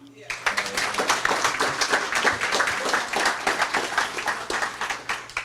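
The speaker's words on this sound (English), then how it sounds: "Big warm round of applause for Grace Noyes." Warm round of applause from an audience at a gathering, lively clapping from many hands with bursts of cheering or voices mixed in, fairly close and loud, starting abruptly and continuing steadily.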